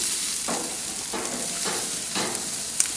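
Shrimp and onions sizzle on a grill for a shrimp pizza, a constant close hiss with four distinct bursts as pieces are flipped, and no one speaking.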